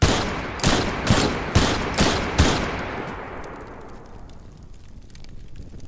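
Gunfire in the Teardown video game: five loud, sharp shots in a steady rhythm over about two seconds, followed by a long rumbling tail that fades with crackling debris.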